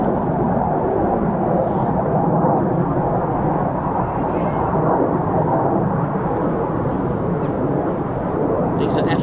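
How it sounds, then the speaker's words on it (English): Several F-35A stealth fighter jets flying over an RAF base, a steady, loud, broadband roar that holds for the whole stretch with no clear rise or fall. Faint voices sit underneath it. "These are F-35As."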